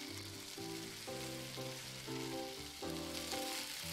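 Salmon with its skin on frying in a pan in the Cooking Simulator video game, a steady sizzling hiss that continues evenly throughout while soft musical tones play underneath.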